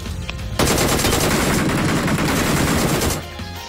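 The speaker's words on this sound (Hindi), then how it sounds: "गोलियां ही नहीं लग रही थी।" Rapid automatic gunfire bursts out in the battle royale video game BGMI, a loud, dense stream of shots lasting about two and a half seconds before cutting off, with quieter game ambience on either side.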